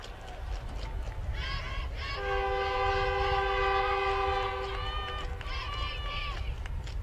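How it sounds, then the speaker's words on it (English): Out beyond a high school football game in Quincy, a train rumbles past in the distance and sounds a long, multi-tone horn blast for a few seconds over the low roar of the moving cars. "Almost sounds like Safeco Field there in the background with the train"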